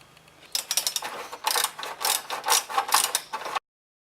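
Ratchet tightening bolts while a metal shed is assembled: a close run of fast, uneven clicking bursts lasting about three seconds, then it cuts off abruptly.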